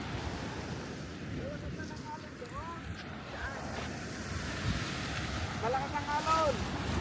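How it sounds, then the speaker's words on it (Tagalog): Strong ocean surf at Sentinela Beach in Claveria, Cagayan, a continuous rushing wash of waves under heavy wind noise on the microphone, with faint voices in the background. "Malakas ang alon."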